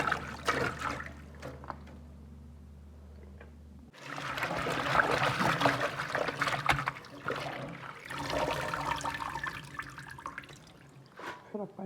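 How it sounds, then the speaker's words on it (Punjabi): Spinach and greens are washed under running water, with a steady splashing stream that starts abruptly after a quieter opening and carries on with brief pauses, while a voice talks intermittently. "ਇਹਨੂੰ ਦੋ ਤਰ੍ਹਾਂ ਪਾਣੀ ਵਿੱਚ ਧੋ ਲੈਣਾ"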